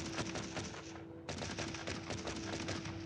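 Rapid bursts of automatic gunfire in the video game Sniper 3D, loud and dense, with a brief pause before the firing resumes at full intensity.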